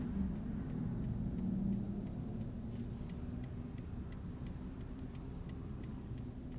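Cars passing on a town street in Norwich, Connecticut, heard as a steady low road rumble with a louder swell early on, alongside a faint regular ticking like a turn signal.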